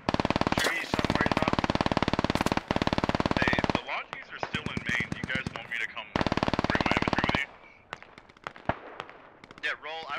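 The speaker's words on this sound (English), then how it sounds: "that's Lance Aubrey with an MG3" An MG3 machine gun fires long, rapid sustained bursts in the video game Squad, loud and close, with pauses between bursts and other scattered gunfire around it.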